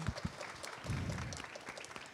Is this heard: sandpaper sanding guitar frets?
no